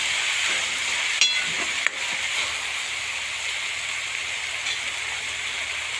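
Onions and fenugreek leaves roasting in a pan, giving a steady hissing sizzle that stays even throughout, with a couple of faint clinks of stirring.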